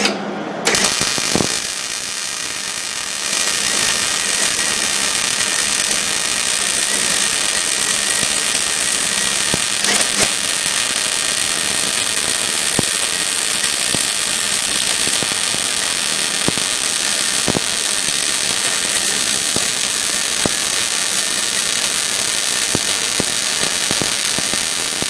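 A Hobart 140 wire-feed welder runs a bead on a quarter-inch horseshoe at wire speed 45 and its top amp setting, giving a steady loud crackling buzz with sharp pops, close up and unbroken for over twenty seconds.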